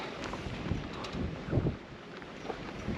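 Strong wind blows across open, unsheltered fields on a Nepal trek near Namche Bazaar, a rough rumbling buffeting on the microphone with irregular gusts, no talking.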